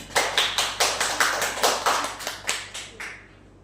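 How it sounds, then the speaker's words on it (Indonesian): Brisk rhythmic clapping in a fourth-grade elementary classroom, claps coming in a quick even beat for about three seconds before fading out, with no talk over it. "Silakan beri tepuk tangan untuk kalian semuanya"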